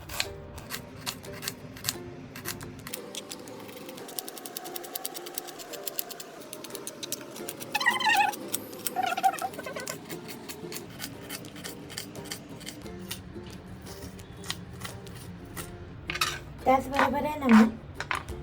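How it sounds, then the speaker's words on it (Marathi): A knife chops onion finely on a board at home in a kitchen, giving quick runs of sharp taps that come in bursts, loudest near the middle and the end, with quiet stretches between. "तो मी कांदा कापून घेते"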